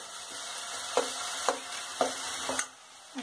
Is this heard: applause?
no